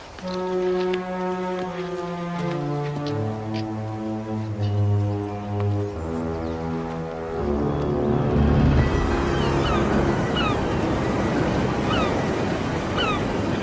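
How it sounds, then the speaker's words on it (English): Open-ocean waves surge and wash in a broad, rushing roar that builds in the second half, following a low, sustained horn-like tone at the start. "ocean in the middle of nowhere"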